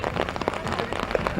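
Rain falls at a men's baseball game, a dense close patter of drops on surfaces with uneven bursts of spattering throughout the short stretch, with no voices heard.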